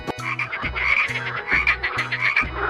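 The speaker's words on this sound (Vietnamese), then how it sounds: "Con ếch." A frog croaks loudly and close by in a steady rhythm, each call a short pulsing burst repeated about every half second.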